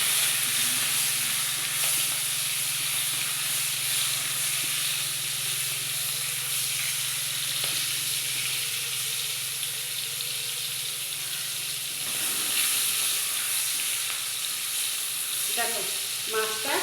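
Prawns coated in turmeric and salt fry in oil with a dense, continuous close sizzle that barely changes, and a few faint clinks near the end.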